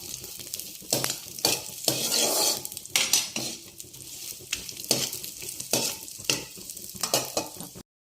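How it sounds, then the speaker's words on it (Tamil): Onions and tomatoes for hotel-style paneer butter masala fry on a low flame. Rhythmic spoon strokes scrape and clink against the pot roughly once a second over a soft sizzle, close up and without speech. "நல்லா வறுத்துட்டு சிம்மிலே வச்சு நல்லா ஃப்ரை பண்ணணும்"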